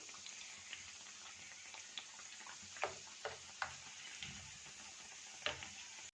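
Azoq pieces fry gently in oil over low heat, giving a soft continuous sizzle broken by scattered small ticks and pops, quiet and close.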